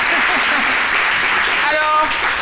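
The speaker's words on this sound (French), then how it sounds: "Merci de l'applaudir." Studio audience applause on a French daytime TV talk show, a dense, continuous wash of clapping at steady loudness, with a voice speaking over it near the end.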